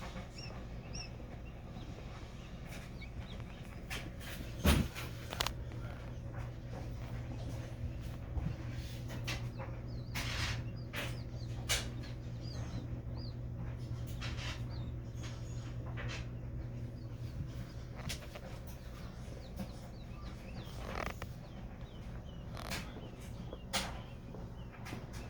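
Baby quail chicks hatching in an incubator give faint, scattered high chirps and peeps over a steady low incubator hum, with a few brief louder knocks.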